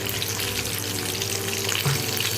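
Chopped onions and tomatoes fry together in a pan, giving a quiet, continuous sizzle with light stirring noises and a small scrape toward the end, no speech.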